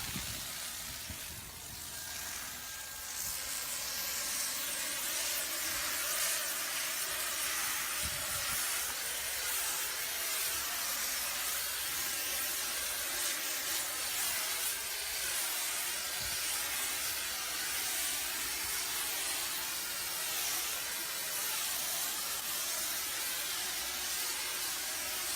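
An AST Kodiak M2 sprayer sprays Sherwin-Williams Ultracrete residual material from line pressure, a steady broad hiss that holds loud and unbroken throughout, with no talk.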